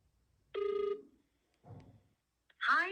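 Telephone ringing at the start of a call to an automated voice-response system, two short ring tones separated by pauses, fairly clear and close, followed by a voice beginning.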